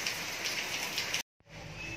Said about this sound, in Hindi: ये बारिश ना 4 महीना बहुत परेशान करेगी